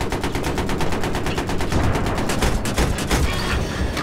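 Rapid automatic gunfire fills a video game battle, a loud, continuous burst of closely spaced shots running without a break, with other weapons crackling underneath.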